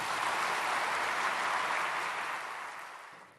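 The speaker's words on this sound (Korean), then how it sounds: "박수로 환영하시겠습니다" A church audience applauds to welcome a pastor at a prayer meeting for peaceful unification, a steady wash of clapping that fills the clip and then fades near the end.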